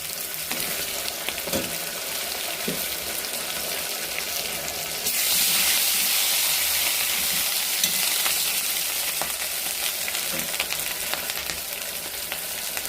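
Whole mustard seeds and green chilies fry in hot oil for a tangy rui fish curry, making a dense, continuous sizzle that swells louder midway, with a few light knocks and no talk.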